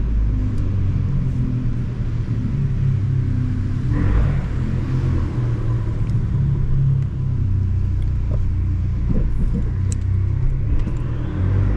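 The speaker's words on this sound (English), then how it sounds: "So again, more of that exhaust." A 2015 Fiat 500 Abarth's exhaust holds a loud, steady, deep drone from close range, rising briefly partway through while the small car drives on.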